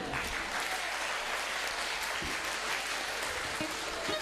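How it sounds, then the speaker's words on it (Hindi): Steady studio audience applause fills a Pakistani quiz game show, dense and continuous from start to finish with no break, a few low thumps scattered underneath. "चले इनके लिए तालियां बजाएं जी।"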